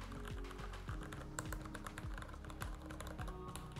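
Typing on a Ducky x Varmilo Miya Pro Mac mechanical keyboard with Red switches, a steady, fairly fast run of close, crisp key clacks with no voices.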